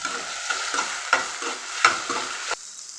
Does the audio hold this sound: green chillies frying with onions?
yes